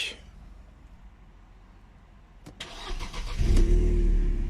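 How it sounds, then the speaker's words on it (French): A Mercedes CLK200 W208 with a freshly replaced battery is started with the key: a quiet lull, a sharp click, a short crank, then the engine catches and swells into a loud, steady close-up run. "donner un coup de clé et voir si notre voiture va démarrer"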